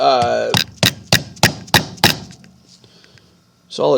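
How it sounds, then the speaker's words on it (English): A small non-marring hammer taps a solid steel punch against a frozen pin in a Colt pistol frame, six crisp, evenly spaced metallic strikes ringing close up, followed by a short quiet pause and a soft shuffle. "So I'm just going to get a little punch, give it a couple of taps"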